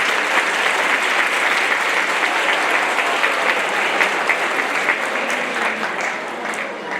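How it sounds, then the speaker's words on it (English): An audience at a high school percussion and band ensemble concert claps for students and parents in steady, dense applause that fills the room, fading slightly toward the end. "give the students and the parents a nice round of applause"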